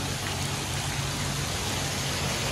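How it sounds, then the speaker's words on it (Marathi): Heavy rain pouring down in a steady, dense hiss that fills the whole space, constant and even throughout with no voices. "हा किती पाऊस आहे."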